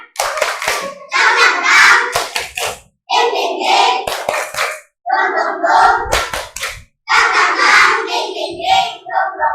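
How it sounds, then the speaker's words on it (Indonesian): A class of young children stands in an Indonesian classroom and performs the tepuk semangat chant: loud, rhythmic bursts of clapping mixed with chanting voices, broken by short pauses between phrases. "Tepuk semangat"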